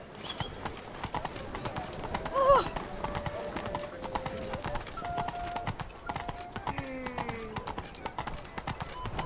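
Roach the horse in The Witcher 3 trots with steady clip-clopping hooves throughout, joined by soft game music and occasional voices.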